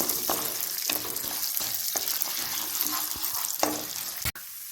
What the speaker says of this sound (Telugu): నూనె వేడెక్కిన తర్వాత ఇలాగా సాయి మినపగుళ్ళు వేసుకుని దోరగా వేయించుకోవాలి.